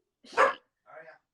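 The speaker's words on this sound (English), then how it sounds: "sorry guys, that's my dog." A dog gives two close barks, the first loud and full, the second shorter and softer, separated by a brief pause indoors.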